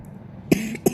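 Two quick coughs from a child during ear cleaning, close and sharp, spaced about a third of a second apart over a low background hum.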